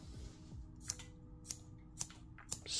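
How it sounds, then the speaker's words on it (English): A SOG Snippet multitool's small scissors snip four times at roughly half-second intervals, each cut a crisp, close metallic click over a quiet background. "The cutting performance on these scissors is, well, let me show you."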